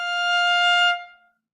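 A single sustained violin note, F natural played with a low first finger in a beginner practice lesson, rings clearly alone for about a second, then fades out.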